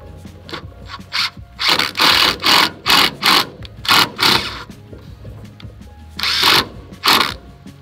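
Screws driven into a wooden board with a power driver, a run of short, rhythmic whirring bursts followed by a pause and two more bursts, close and fairly loud.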